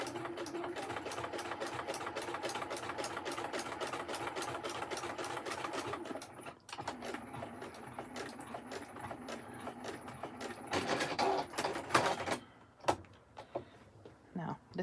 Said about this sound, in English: you do not want to sew through that, so go really, really slow to make sure.